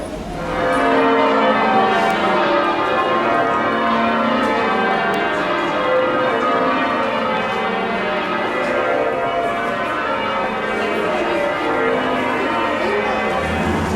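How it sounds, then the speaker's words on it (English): The bells of York Minster ring on and on in a rich, layered peal, steady and loud, filling the air with overlapping tones. "just hearing the bells there on York Minster, absolutely spectacular, it really is"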